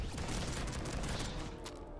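Bulldog gun firing at a Juggernaut in Call of Duty custom zombies on the Oil Rig map: loud, dense bursts of close gunfire blast continuously across the whole stretch.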